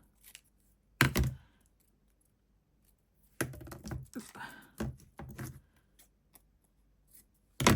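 Scissors trim a paper window envelope in a quiet room, producing a few separate bursts of crisp snipping and paper rustling with silent gaps between them.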